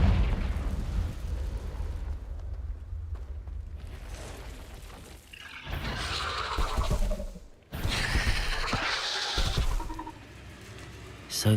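A Confringo blasting spell from Hogwarts Legacy detonates in two loud, broad booming bursts a couple of seconds apart, standing out over a steady rumbling game background.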